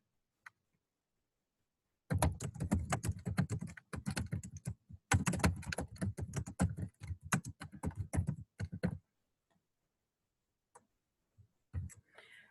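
Rapid bursts of keystrokes rattle on a computer keyboard in two long runs, close and crisp, separated by brief pauses, then a few isolated taps in near silence.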